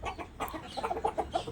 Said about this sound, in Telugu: 5 చిక్స్ తెచ్చానండి పెద్ద ఫామ్ నుంచి. వాటిలో 2 పోగా 3 పుంజులు వచ్చినాయి.